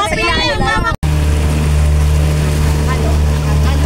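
A motorboat engine labours with a steady, heavy low drone that runs continuously after a brief break, while water and wind noise sweep across it.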